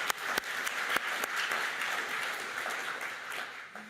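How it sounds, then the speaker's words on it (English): A conference audience applauds at the APNIC 58 opening ceremony in Wellington, with sustained, dense clapping and a few sharp claps standing out, ending fairly abruptly. "So can we give a warm applause to APNIC?"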